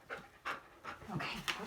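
A pet pup pants in quick, rhythmic bursts close by, several breaths in a row with short gaps between them.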